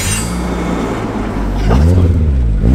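A Nissan Silvia S15 car engine idles with a deep, steady rumble, then revs up louder toward the end, close and continuous.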